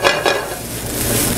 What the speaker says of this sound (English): So that's a little saute we're doing there.